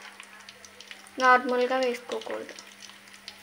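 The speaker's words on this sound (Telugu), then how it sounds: "అలాగే వెల్లుల్లి కూడా బాగా ఫ్రై అవ్వాలి, బాగా వేగాలి ఆయిల్లో" Garlic frying in hot oil as a tempering for cauliflower pickle, giving a steady close sizzle throughout while a person talks briefly over it.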